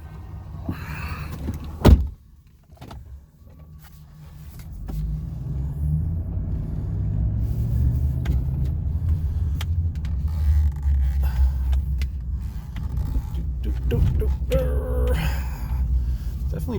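Chevrolet Silverado CNG pickup truck engine running on a short ride around the block, a steady low rumble building after a brief thump and lasting throughout, fairly loud and close with occasional small cabin knocks.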